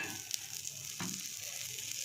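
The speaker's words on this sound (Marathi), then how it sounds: "तर बटर घालून घेते इथं थोडंसं आणि त्याला वरून बी लावून घेते बटर मी आणि छान असं भाजून घ्यायचं याला" Pav bread toasts in butter on a hot tawa, a soft, steady sizzle with a brief scrape partway through.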